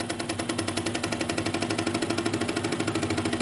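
Buck Tool SSA18V 18-inch scroll saw running steadily with a fast, even mechanical pulse and a low motor hum, moderately loud and close, no voices.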